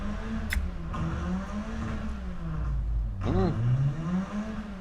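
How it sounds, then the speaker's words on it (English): An engine drones and rises in pitch as it revs, with a steady rumble throughout and a brief whine swelling near the end. "That guy is really revving it up, right?"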